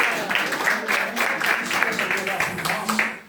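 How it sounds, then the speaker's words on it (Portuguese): A church congregation at an evening service applauds to welcome a deacon, dense rhythmic clapping in a roomy hall that continues steadily under voices. "Vamos receber o nosso irmão Diácono Gerson com palmas de vitória para Jesus"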